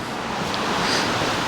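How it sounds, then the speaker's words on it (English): Water rushes steadily where two rivers meet in Wicklow, a loud continuous roar close by with some wind buffeting the microphone and no voices. "this is called the meeting of the waters"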